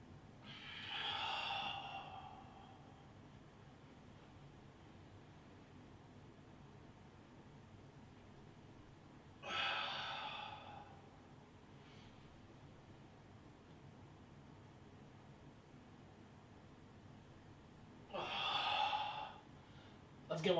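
Three deep, breathy exhalations during an exercise session, each a long rushing breath separated by quiet stretches of several seconds, heard close with no talk.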